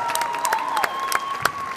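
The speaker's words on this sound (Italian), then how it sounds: "Give them a round of applause." Audience applause at the 2009 NSW Open professional standard ballroom dance competition, a steady patter of many hands clapping with a few sharper claps and a faint tone running underneath.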